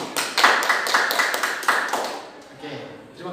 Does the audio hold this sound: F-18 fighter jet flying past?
no